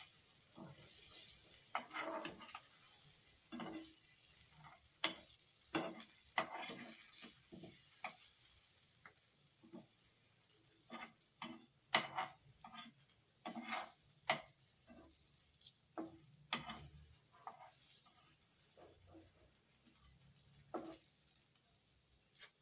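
Fish, sule and inga, fries in oil in a pan in Malvani style, a faint, steady sizzle with scattered sharp crackles and pops and occasional scraping as pieces are turned.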